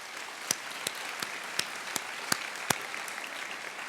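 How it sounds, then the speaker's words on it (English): Sparse clapping from an audience at an awards ceremony, a handful of distinct claps spaced roughly evenly over a soft room background, fairly quiet and without voices. "Let's give them a round of applause."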